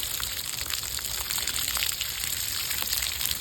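Water pours steadily onto tree bark at Dripping Springs on a rainy day, a soft continuous gushing and trickling with faint scattered drips.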